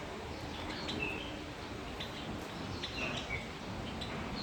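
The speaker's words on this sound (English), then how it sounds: "How are you, beautiful birds?" Birds chirp and tweet inside a large cage on a hilltop, scattered short calls at moderate distance over a quiet hissing background, with no one speaking.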